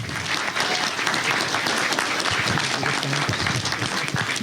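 Steady audience applause at a national economic forum, a dense continuous patter of many hands clapping at moderate distance, holding even for several seconds.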